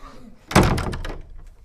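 A door slams shut with a single solid thunk, loud and close, then its resonance dies away over about a second.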